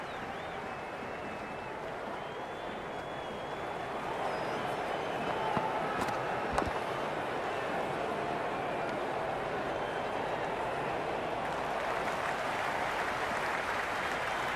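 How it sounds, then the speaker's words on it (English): Steady, broad roar of a cricket video game crowd in Cricket 26 during a Zimbabwe vs Pakistan T20I, a continuous buzzing wash of cheering that swells slightly midway and holds loud throughout, with no voices picked out. "It's the most enthusiastic crowd you could ever see right now. There's a buzz, a real buzz coming from the stands."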